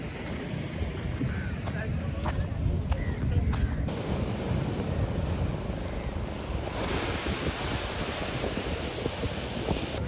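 Ocean surf at Rock Beach in Pondicherry roars continuously as a broad, steady wash of waves with wind buffeting the microphone, no speech audible.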